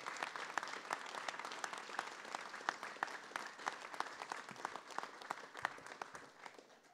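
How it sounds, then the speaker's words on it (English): Scattered hand claps from a small group of people at a sexual assault response collaboration meeting, quiet and somewhat distant, with individual sharp claps standing out over a steady patter for about seven seconds. "I think we should give ourselves a round of applause"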